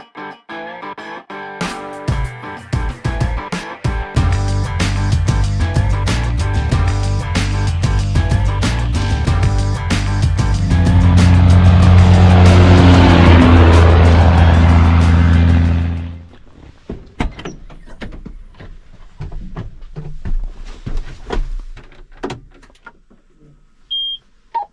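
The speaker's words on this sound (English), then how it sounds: "we'll let the tractor run the air seeder." A tractor engine running an air seeder for cover crops on a foggy farm, a steady loud drone with tonal hum that rises into a dense whirring roar, then stops abruptly, followed by scattered clunks and clicks.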